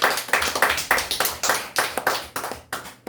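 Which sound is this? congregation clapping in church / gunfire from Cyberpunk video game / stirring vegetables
congregation clapping in church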